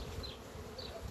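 Honey bees buzz at the hive during seasonal feeding work: a dense, steady swarm drone that sounds close and holds without a break, with no voices.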